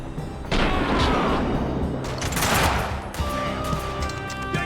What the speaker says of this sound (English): That's how you sniper rifle.